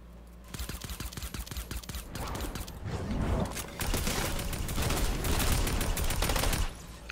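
Fortnite Battle Royale gunfire: rapid bursts of shots come in quick succession, with dense, loud fire that builds and continues for several seconds before cutting off.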